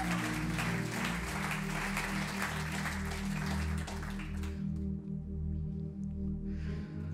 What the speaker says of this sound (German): Dann lass uns ihm einen riesen Applaus geben.